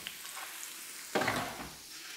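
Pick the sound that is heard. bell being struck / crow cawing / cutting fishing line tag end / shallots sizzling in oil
shallots sizzling in oil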